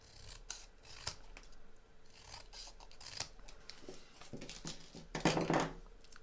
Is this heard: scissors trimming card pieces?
yes